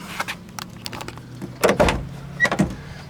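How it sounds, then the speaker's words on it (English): A 1975 Pontiac Trans Am door unlatches and swings open with a couple of sharp mechanical clicks and thumps, close by in a quiet setting. "As we open up the doors"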